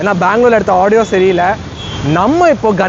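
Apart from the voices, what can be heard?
No everyday noises stand out.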